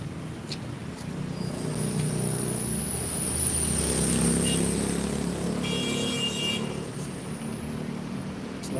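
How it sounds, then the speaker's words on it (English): London bus number 155 passing along Clapham Road in South London: a broad vehicle rumble swells and fades amid steady street traffic, with a high whine and a short brighter tone partway through. "That bus is the 155. That's going to Elephant and Castle."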